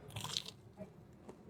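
A bite into a soft bread snack filled with tuna gives a short, close crunch followed by faint chewing, quiet and brief.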